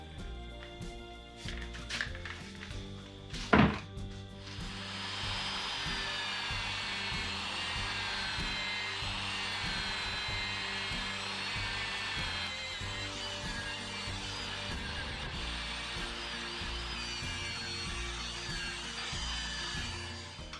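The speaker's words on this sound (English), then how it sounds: "let's see if I can remove that coloration with this kind of Scotch-Brite disc" A Scotch-Brite disc on a power tool whirs against a boat's stanchion fitting, removing pinkish discoloration, a continuous high whine after a few sharp knocks at the start.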